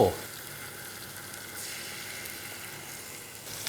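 Fettuccine with pesto stir-fried in a pan makes an even, moderate sizzle with a soft hiss that stays constant throughout.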